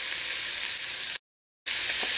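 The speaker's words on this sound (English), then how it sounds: "I'm going to allow these vegetables to saute in here" Chopped red bell pepper, scallion and carrots seasoned with salt sautéing in a hot pan: a steady, close hiss and sizzle, broken by a brief silent gap before the sizzling resumes.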